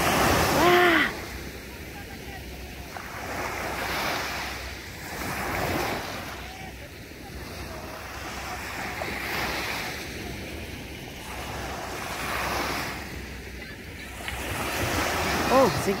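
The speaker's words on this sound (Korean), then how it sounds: "아, 파도 소리 너무 좋다." Ocean waves roll in and break on Haeundae Beach in Busan at night in steady, repeating surges, with wind buffeting the microphone throughout.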